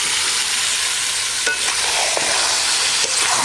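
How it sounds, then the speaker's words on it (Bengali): Washed chicken leg pieces stirred into sizzling, oil-releasing spice paste for a green apple chicken curry: a steady loud fry hiss with a few scraping stirs of the spoon, no talking. "এখন আমার ধুয়ে রাখা চিকেনটা দিয়ে দেবো"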